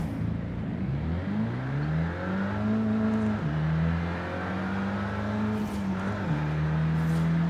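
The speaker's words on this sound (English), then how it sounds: "the 5-cylinder engines sound great in this game" An Audi RS3 five-cylinder engine in a racing video game revs continuously and loudly, its pitch climbing in steps with gear shifts, dropping and rising again, with no talk over it.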